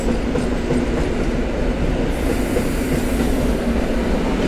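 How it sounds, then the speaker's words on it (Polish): A Ukrainian Kiev Express sleeper carriage from 2021 runs along the rails, heard from inside as a loud, steady rumble with faint wheel clatter and a constant hum. "To jest Warszawa Wschodnia i pociąg ukraiński."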